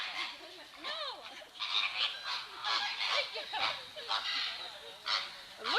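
Flamingos being moved from a trailer honk in a busy, overlapping goose-like chorus of repeated calls, moderately close, with people talking quietly underneath.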